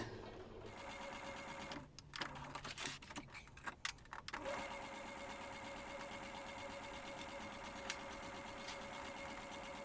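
A domestic sewing machine with a standard presser foot stitches a fabric headphone cover, whirring steadily and close through most of the clip, broken early by a few short stops and restarts.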